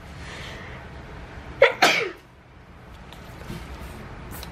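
A single sharp sneeze bursts out in a quick two-part snap, close and loud, followed by quiet room noise.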